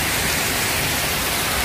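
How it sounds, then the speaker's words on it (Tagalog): Dense, steady hiss of heavy rain pouring down, loud and unbroken with no voices. "Grabe po ang ulan dito sa..."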